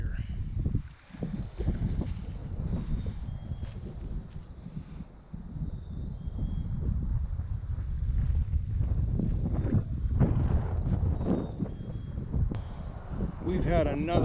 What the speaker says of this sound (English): We've had another very windy day.